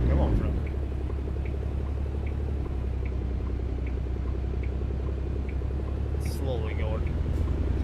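Heavily loaded truck carrying about 44,000 pounds slowly pulling away, a deep steady engine rumble with faint rhythmic ticking, someone talking over it and a brief hiss near the end.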